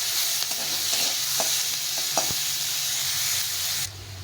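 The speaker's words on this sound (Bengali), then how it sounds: "পেঁয়াজটা ভাজা ভাজা হয়ে গেছে।" Onions sizzle steadily in a hot pan while being fried for a duck egg curry, with a few sharp stirring clinks against the pan; the frying sound is loud and close, then drops abruptly near the end.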